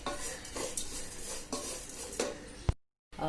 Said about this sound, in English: Now let's toast the oats.